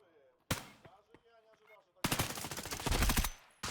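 Gunfire in a video game shooter match: a sharp shot lands, a few lighter cracks follow, then a dense, loud burst of rapid automatic fire fills the second half, close and harsh.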